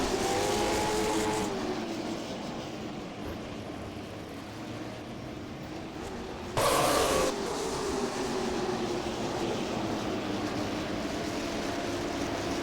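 Late model race cars roar around Jefferson Speedway, a continuous engine drone with rising and falling pitch as cars pass, and one loud close pass bursting in midway before fading back to the distant pack.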